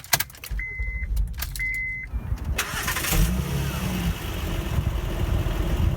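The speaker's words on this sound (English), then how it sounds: "Just listen to how quietly this car starts." A few key-fob beeps, then a Honda Pilot SUV's starter cranks briefly and the engine catches into a smooth, steady idle close by.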